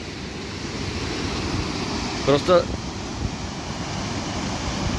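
Rushing water lashing and splashing outdoors in nature in the Zhytomyr region, a steady loud broadband roar like a dam spillway, continuous throughout with a brief spoken word partway through.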